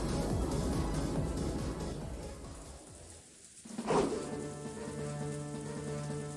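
Steady heavy rain pours over a stormy rose garden in a visual novel scene, a dense continuous hiss that dips briefly before a low rumble of thunder swells, then the downpour carries on.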